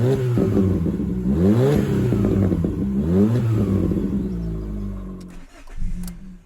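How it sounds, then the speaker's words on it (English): Fiat Panda with a performance exhaust revs hard close by, the engine note climbing and falling in repeated sweeps before dropping to idle with a short clatter. "the performance exhaust"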